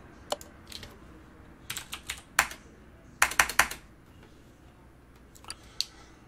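Computer keyboard keys clatter in short irregular bursts, quick clusters of close crisp clicks separated by pauses, during a Car Mechanic Simulator 2018 livestream session.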